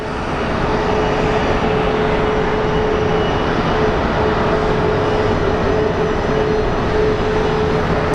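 An American Airlines airliner, flight 1476 from Palm Springs, passes at Phoenix Sky Harbor Airport with a loud, continuous engine roar and a steady whine running through it.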